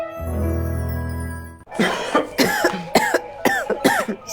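A person coughing in an anti-smoking message: a sustained tonal hum first, then a run of about six harsh, loud coughs close up, in uneven bursts with short gasping breaths between them.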